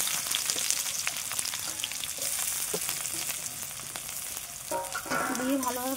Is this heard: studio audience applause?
no